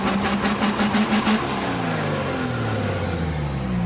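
A Cummins diesel swapped into a Cadillac free revs up hard with a rising tone, then winds back down with a long falling pitch, loud and close with no one speaking.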